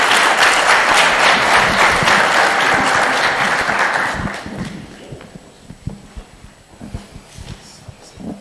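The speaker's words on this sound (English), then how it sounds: "Please give them a round of applause." Applause from delegates at an African scout conference, a loud dense burst of clapping for partner organisations that thins out after about four seconds into scattered claps and handling noises.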